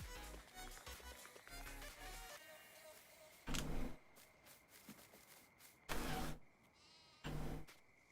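Several short sheep bleats from Farming Simulator 19 ring out one after another, loud and close, following a stretch of music-like tones.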